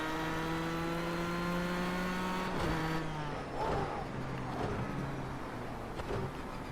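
A race car engine in a racing video game, with a GT4 car on the track, drones and shifts pitch through a turn, then revs again while the car rattles over uneven ground.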